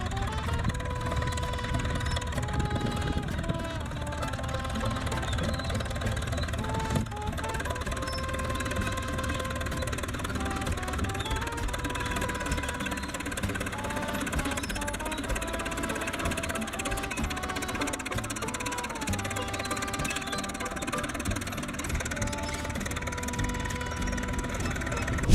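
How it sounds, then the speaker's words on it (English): A massive 40 horsepower crude oil hot bulb engine runs steadily at close range, a continuous low mechanical drone with a regular thumping beat and vibrating overtones, unbroken for the whole stretch. "examine the massive 40 horsepower crude oil engine"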